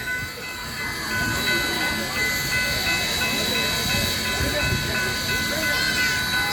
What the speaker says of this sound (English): Steam train, that engine's a monster.